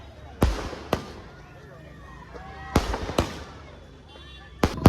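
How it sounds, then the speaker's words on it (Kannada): Firecrackers burst in sharp, loud cracks during a street procession for the Ganesha immersion. Four or five separate bangs come at irregular intervals, two of them close together, over crowd noise and scattered voices. "ಈ ಪಟಾಕಿ ಹಚ್ಚಿದ್ರೆ ನೋಡ್ತಾನೆ ಇರ್ತೀನಿ ಯಾವಾಗಲೂ"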